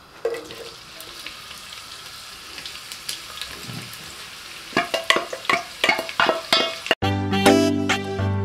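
Onions fry in a pot of cooking oil for beef pilau: a faint sizzle at first, then louder scraping and clattering stirring strokes, with music coming in near the end.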